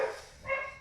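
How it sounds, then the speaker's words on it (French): A dog barks indoors in two short, faint yips, quiet and close, with no talking over them. "vous allez entendre le chien"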